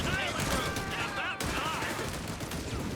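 Machine gun fire in Company of Heroes 3, a World War II strategy game battle between German and Allied forces, rattles densely and steadily throughout, with broad battle noise mixed under a commentator's continuous talk.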